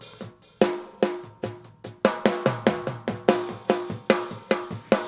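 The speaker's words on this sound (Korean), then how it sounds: "그리고 이제 리버브랑 같이 잡아보겠습니다." An R&B song treated with delay and reverb together, a steady run of rhythmic hits with echoes and a washed, lingering tail, building slightly denser midway; quiet, no speech.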